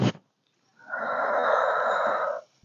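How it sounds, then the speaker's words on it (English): A long, steady exhale through the mouth during a back stretch, preceded by a short sharp breath, close and soft. "And breathe in, out."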